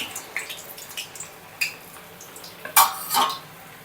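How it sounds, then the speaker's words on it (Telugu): Murukulu dough crackles as it drops into hot oil, with scattered soft sizzles, drips and a few sharper clatters of a ladle near the end, no talking. "ఇలా ఇలా తీసుకొని ఆయిల్లో డ్రాప్ చేయాలి"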